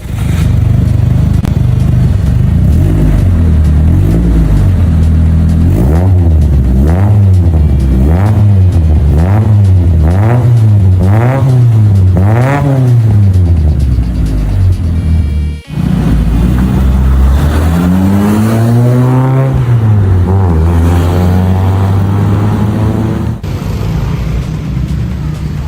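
Honda Civic Nouva fitted with a 4-1 NDK header and resonator revving loudly up close, a string of rising and falling throttle blips climbing higher, then one long rev that sweeps up and settles back to a steady idle.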